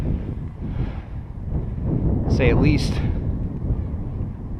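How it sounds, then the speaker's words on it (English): Gusty wind buffets the microphone outdoors in a valley on a windy day, a steady low rumble that swells in the middle, with a person talking over it throughout. "A little windy out today."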